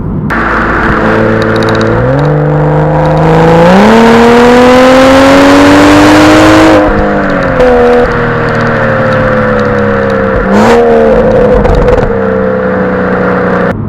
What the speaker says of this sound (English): this has the BMW M Performance exhaust, which makes it slightly louder and a bit more crackly and poppy